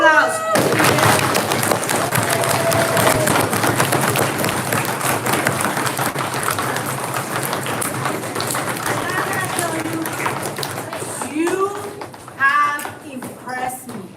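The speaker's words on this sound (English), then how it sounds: "Can we give a round of applause?" An elementary school audience gives a round of applause, a loud burst of many hands clapping that slowly thins over several seconds, with children's voices and chatter rising as the clapping fades out.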